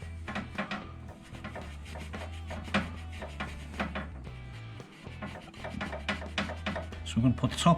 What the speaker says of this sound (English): Got a bit of wire wool here, just going to clean the surfaces up.